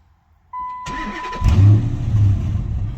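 A car with the check engine light on cranks briefly, then catches and starts, settling into a loud, steady running rumble at close range.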